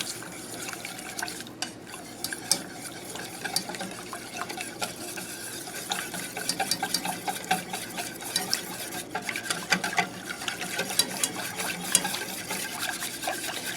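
Milk being whisked into a sauce to work out lumps, a soft, quick rhythmic scraping and swishing of a whisk against the pan, steady and fairly quiet throughout.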